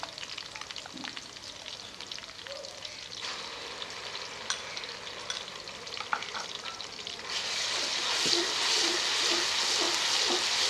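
Ginger garlic paste sizzles in a pan with golden browned onions, a steady crackling fry with stirring scrapes that grows louder and denser partway through, with no talking.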